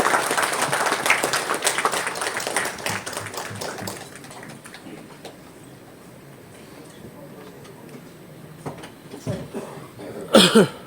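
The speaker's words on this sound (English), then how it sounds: "A big round of applause for our winners." Applause for sanitation award winners at a ceremony, a crowd clapping loudly at first and then thinning out to scattered claps, with coughs and murmured talk near the end.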